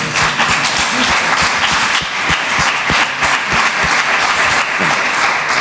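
Audience applauding in an auditorium after a Catholic speaker's testimony, dense sustained clapping from a large crowd, loud and even throughout with no clear speech.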